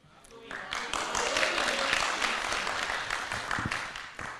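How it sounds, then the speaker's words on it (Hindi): Audience clapping to welcome a performer at a Holi special show, swelling after a brief opening and holding steady, moderately loud, with a voice briefly over it. "जोरदार तालियों से स्वागत करें"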